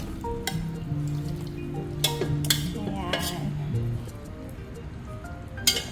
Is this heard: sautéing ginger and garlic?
yes